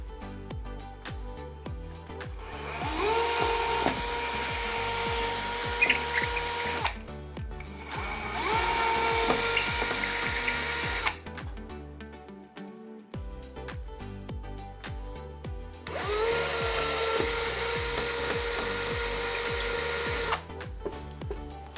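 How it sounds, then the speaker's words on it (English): A power drill with a masonry bit whines in three long bursts with short pauses between, grinding steadily as it bores into a hard masonry wall, close and loud. "I've got a suitable masonry drill bit attached for this wall that I'm going to drill into"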